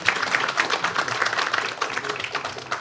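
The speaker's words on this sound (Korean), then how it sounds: "큰 박수로 맞이해 주시기 바랍니다." Applause from an audience at a Korean energy-industry forum on AI transformation, welcoming a speaker to the stage; a steady, moderately loud patter of many hands clapping for a few seconds with no talk over it.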